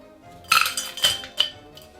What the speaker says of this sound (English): get your tin shaker and put in 45 ice cubes